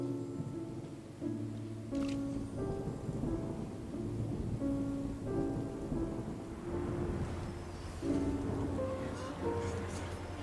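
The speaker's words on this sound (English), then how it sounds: "It's raining again." Steady rain with rolling thunder in Genshin Impact, a soft continuous downpour under tonal game music, with a couple of sharper thunder cracks and a low rumble spread across the clip.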